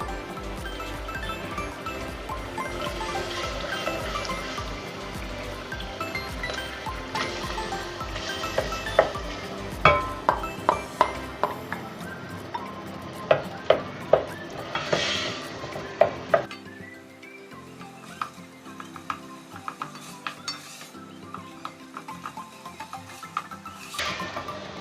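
Mashed potatoes frying with spices in a pan for aloo tarkari, with a steady sizzle and repeated scraping and clinking of a spoon against the pan, close and fairly loud.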